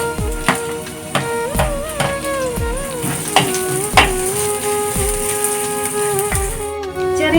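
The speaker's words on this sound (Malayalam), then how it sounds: "ഇഞ്ചിയും വെളുത്തുള്ളിയും ഒന്ന് ചൂടായി തുടങ്ങുമ്പോൾ നമുക്ക് ഇതിലേക്ക് അരിഞ്ഞു വെച്ചിരിക്കുന്ന ചെറിയ ഉള്ളിയും പച്ചമുളകും കൂടെ ചേർത്ത് കൊടുക്കാം." Chopped shallots and green chilies sizzle in hot oil with ginger and garlic, a loud steady frying hiss broken by repeated sharp taps and scrapes of a stirring spoon against the pan.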